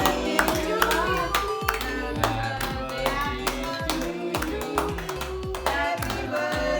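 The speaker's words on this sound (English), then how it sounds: "Clapping, Chachi, clapping." Several people clap together at a birthday celebration, a steady rhythmic patter of hand claps close by, mixed with voices singing and chatting underneath.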